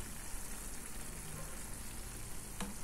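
Ground pork with added water frying in a pan gives a steady, soft sizzle and bubbling throughout, close and even, with no talking.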